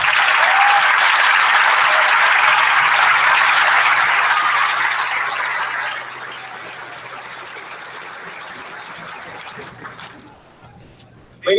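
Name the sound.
audience applause for faculty at graduation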